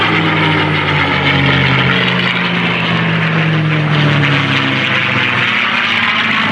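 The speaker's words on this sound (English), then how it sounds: "They married up the airframe of the Mustang as we see it here with a Rolls-Royce Merlin engine" P-51 Mustang fighter with a Rolls-Royce Merlin engine flies past at an airshow, a loud, steady propeller drone whose pitch slides gradually lower as it passes.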